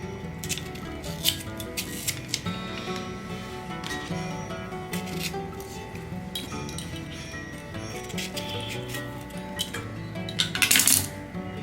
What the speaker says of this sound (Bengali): টুকরো টুকরো করে কেটে নিতে হবে আমগুলো।